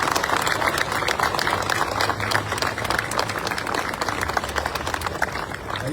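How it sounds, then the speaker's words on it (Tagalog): Crowd applause at a Manila City regular flag raising ceremony, a dense, steady wash of many hands clapping at once, sustained and fairly loud for the whole stretch with no pause. "Pwede ba palakpakan natin ang pinakamalakas ng palakpak?"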